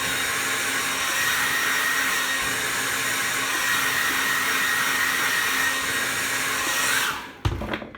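A hair dryer blows steadily on long hair at home, a loud constant whooshing whine that runs for about seven seconds before cutting off, followed by a brief clunk.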